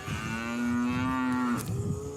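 A calf at a cattle roping lets out one close, drawn-out moo lasting over a second, with faint outdoor background and no talking.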